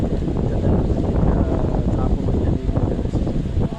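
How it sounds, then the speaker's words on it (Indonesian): Strong wind roars in broadband gusts across an outdoor playground park beside the floating BJ Habibie mosque in Parepare, buffeting the microphone loudly and continuously with no clear speech. "Jadi sekarang ini agak berisik ya Tribuners, karena angin di sini cukup kencang"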